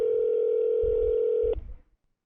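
A phone call placed inside the horror game No Customers Left: a steady outgoing ring tone holds for about a second and a half, then cuts off abruptly, leaving a faint rumble that fades to silence.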